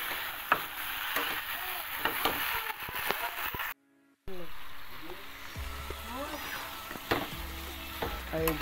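Spice masala with potatoes added sizzles and frying in a pan, with steady scraping and stirring throughout, a brief gap midway, then continued sizzling with low hum.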